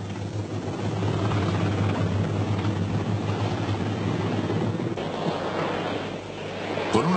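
Sea King and Wessex military helicopters over a British beach landing in the 1982 South Atlantic war, a loud, steady rotor drone blended with wind and surf-like roar throughout, with no talk.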